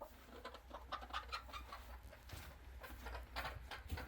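Chickens cluck in a coop on a winter morning, soft irregular clucks and low murmurs, faint and fairly distant with steady low background rumble.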